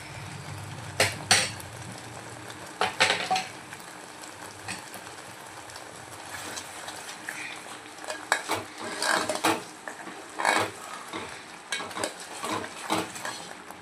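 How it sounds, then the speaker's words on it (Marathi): Spice masala sautéed in oil in a pan for a desi black masala chicken curry, with intermittent scraping and clinking stirring strokes over a faint sizzle, near and moderately loud. "तर हा मसाला आपल्याला तेलामध्ये छान असा परतून घ्यायचा आहे."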